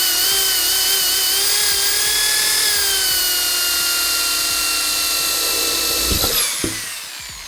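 A power drill bores a hole through the side of a plastic cup with a loud, steady, high whine close by, which slows and cuts out near the end with a few clunks.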